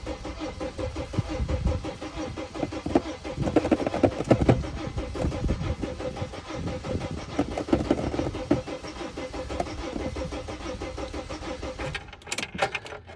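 A diesel Sprinter van that has sat unused for a while cranks over repeatedly without catching, a steady mechanical churn running for about twelve seconds with brief pauses, close and fairly loud, with no talk.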